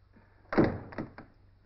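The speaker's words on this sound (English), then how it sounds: "Close the door, please." A door is shut in a quiet room, giving one solid thunk followed by two softer knocks as it settles, heard close and alone.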